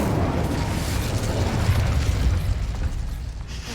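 Incendio fire spell cast in the video game Hogwarts Legacy, a loud, close roaring burst of flame with a rumbling, crackling body that holds steady before easing off.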